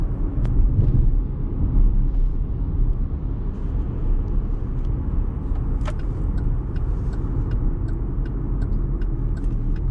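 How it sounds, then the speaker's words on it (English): Steady road rumble and tire noise from inside a 2019 Chevrolet Blazer driving down a street, a continuous low drone with a few faint clicks and ticks; no one speaks. "Just got a quick drive down the street here."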